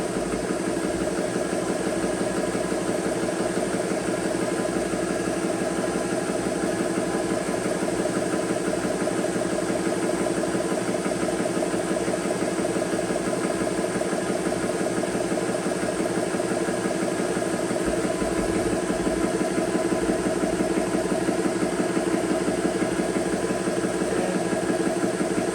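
An air compressor runs steadily while filling a 13 cubic inch buttstock air tank for a magfed paintball marker, its constant mechanical hum and vibration unbroken and fairly loud throughout.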